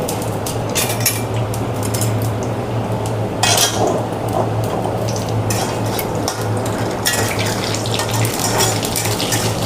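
Nigella seeds with dry red and green chillies crackle and fry in a pan for a Bengali green tomato bhaja, a steady dense sizzle with scattered sharp pops and utensil clinks, close and continuous throughout.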